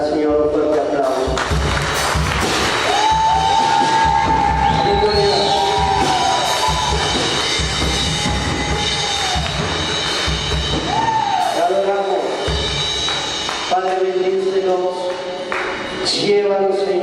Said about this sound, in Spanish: Vamos a dar al Señor un fuerte aplauso.